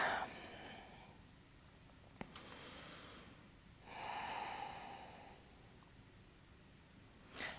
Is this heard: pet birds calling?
no